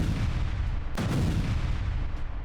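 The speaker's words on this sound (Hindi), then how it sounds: "लेबनान के रिहायशी इलाकों पर बारूद बरस रहे हैं।" Israeli strikes on residential areas of Lebanon: a steady roar of distant fire with one sharp, loud blast near the middle that rings out over continuous rumbling, heard alone without voices.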